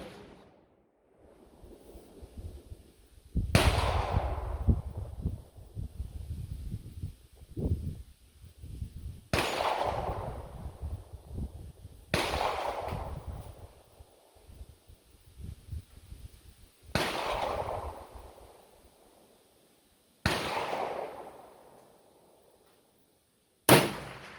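Rifle in .454 Casull firing 300-grain .452 bullets at a 200-yard target outdoors: six loud, sharp reports spaced several seconds apart, each trailing off in a long rolling echo, with no talking.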